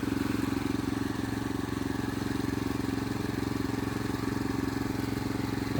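A Krisbow cultivator engine runs steadily while tilling weedy soil, a loud, continuous throbbing motor drone with a rapid even pulse and no pauses.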